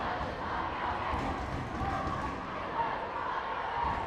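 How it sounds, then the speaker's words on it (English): A lively crowd at an under-13 schools football cup match makes a steady, rowdy roar of voices and chanting, heard from above the stands with continuous crowd noise and no clear single cheer. "Crowd are getting a bit feisty below us."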